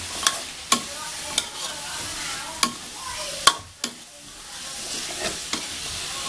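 Long beans are stir-fried in a wok, with sharp metallic spatula clacks at irregular intervals over a continuous hissing sizzle, up close, with no speech.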